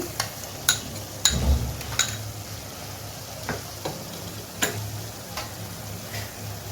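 Onion sautéing with ginger and garlic paste in a pan for a prawn malai curry, a faint, steady sizzle broken by sharp, irregular clicks and scrapes of a spatula stirring, with no one talking.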